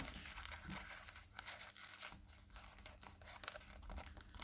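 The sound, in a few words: tearing transparent adhesive tape while making maracas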